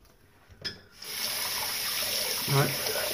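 Tap water runs into a sink while a face is rinsed after a straight-razor shave. A soft clink comes first, then a steady, close rushing gush continues to the end.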